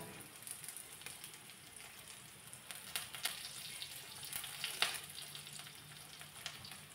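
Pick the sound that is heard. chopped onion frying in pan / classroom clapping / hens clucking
chopped onion frying in pan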